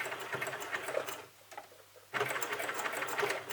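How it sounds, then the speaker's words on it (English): A sewing machine runs a straight stitch with the needle set to 2, its motor buzzing steadily, then pauses briefly before resuming for a short back stitch, all close and clear with no talk. "I have my needle set to number 2, and I'm just going straight stitching"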